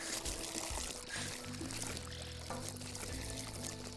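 Game water from Worms Revolution gushes and pours steadily across the map, a loud continuous rushing wash with layered in-game music tones underneath and no talk.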